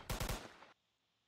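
Gunfire in a video game, three quick loud shots in a rapid burst followed by a short fading tail and then near silence.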